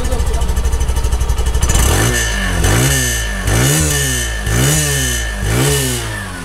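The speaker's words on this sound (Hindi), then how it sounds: "तो मैं आपको जस्ट इस बाइक के एग्जॉस्ट नॉट को सुनाता हूँ।" A Hero Glamour motorcycle engine idles with a rapid putter, then revs up repeatedly in rising, falling pulls, loud and close.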